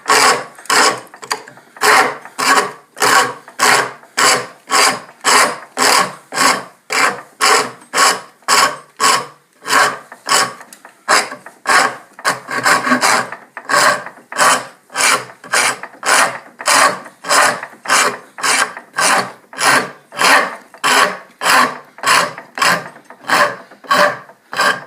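A rasp files and rounds a wooden Windsor chair part in steady back-and-forth strokes, a rhythmic rasping scrape repeating about twice a second, close and loud throughout with no talk.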